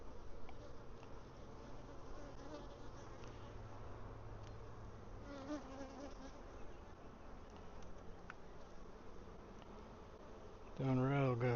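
Honeybees drone steadily around an open hive while honey supers are checked, a dense continuous buzz close by that holds for the whole stretch, with a brief louder burst near the end.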